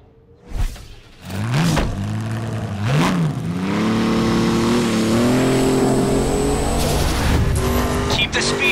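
A race car in the video game The Crew accelerates hard on a shakedown lap. The engine rises and falls through gear shifts and then holds a loud, sustained high-revving roar, with a few sharp transients.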